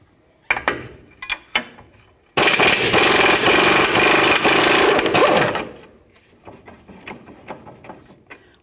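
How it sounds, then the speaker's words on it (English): A bolt holding the front strut to the lower control arm on a 2007-17 Ford Expedition comes loose. Scattered metallic clicks lead into a loud, steady rattling burst of about three seconds, followed by more light clicks. "removing the bolt that holds the front strut to the lower control arm"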